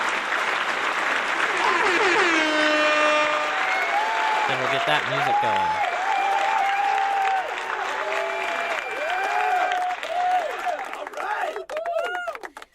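An applause sound effect on a game-development livestream, a crowd clapping and cheering mixed with music and tonal effects, with someone talking briefly over it near the end.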